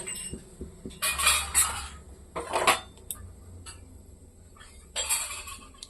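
Ceramic plates and cutlery clink and knock softly as a table is laid for a meal of gola roti, in a few scattered bursts with quiet pauses between them.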